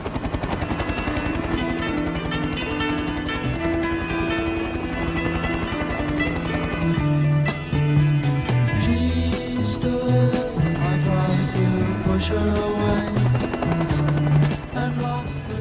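Helicopter heard continuously throughout, its rotor noise sustained and steady, blended with dramatic music-like tonal layers.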